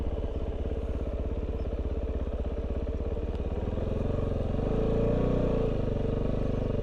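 Loud, close engine drone of a dual sport motorcycle, an XR650L or Kove 450 Rally, riding off-road, a steady pulsing thrum that rises in pitch and swells toward the end as the bike accelerates.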